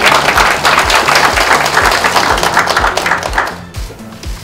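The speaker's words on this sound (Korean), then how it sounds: "박수 한번 쳐주세요." A crowd claps for Ahn Cheol-soo at a Bareun Party gathering, a loud, dense patter of hands close by that dips briefly near the end and then picks up again.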